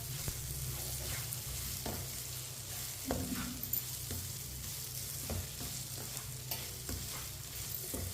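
Semolina halwa ingredients with white sesame seeds roasting over low heat, a spoon stirring and scraping the pan steadily under a continuous soft sizzle, close and moderately loud with no talking.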